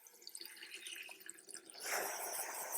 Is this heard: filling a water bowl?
yes